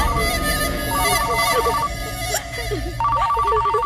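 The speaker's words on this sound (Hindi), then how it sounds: "फोन उठा, फोन उठा।" A telephone rings loudly and repeatedly in a steady electronic ring pattern, with a voice talking underneath.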